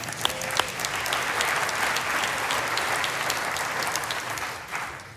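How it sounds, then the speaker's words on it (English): Audience applause during a keynote address at the Mackinac Policy Conference, a dense, even wash of clapping from a large crowd that holds steady for several seconds before thinning out at the end. "we should clap for the weather, right?"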